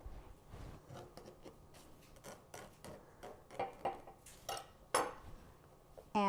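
A knife trims gluten-free pie pastry around the sides of a dish with a run of small, close ticking and scraping taps against the dish rim, quiet and irregular, ending with a sharper clink.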